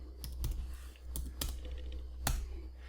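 Typing on a computer keyboard while writing HTML code, a handful of distinct, close keystrokes at an uneven pace over a steady low hum, with no voice.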